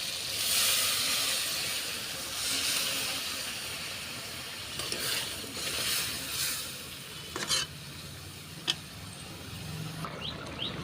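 Water poured into a hot pan with ridge gourd while fish cooks, a broad hissing sizzle that swells at the start then settles into a softer bubbling hiss with a few brief clinks near the end.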